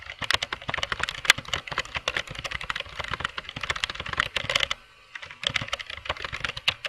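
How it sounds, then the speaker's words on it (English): Typing a message on a computer keyboard, rapid close key clicks in uneven bursts with a brief pause before typing resumes. "you're just going to click in a large box and start typing your message."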